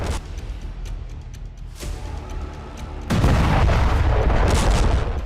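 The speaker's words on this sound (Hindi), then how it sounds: "इसी दौरान इजरायली विमान उसे टारगेट कर लेता है, जिसके बाद एक विस्फोट होता है जिसमें कार तबाह हो जाती है।" Explosion as an Israeli aircraft strikes a car in Khan Younis, Gaza: rumbling low background gives way to a sudden loud, broad blast that stays heavy and roaring for the last couple of seconds.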